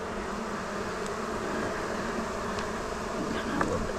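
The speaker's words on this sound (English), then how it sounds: "the beekeeper said that these are a real calm bee" Honeybees buzz during a first beehive inspection, a steady close hum of many insects with a faint click or two and no talking.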